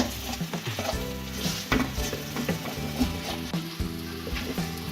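Raw semolina is roasted in ghee for makhandi halwa, a low sizzle with rhythmic scraping and knocking of a spoon stirring against the pan throughout.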